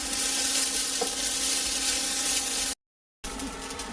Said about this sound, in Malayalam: അരിയിൽ വെള്ളമൊക്കെ വറ്റി പൊട്ടാൻ തുടങ്ങിയിട്ടുണ്ട്.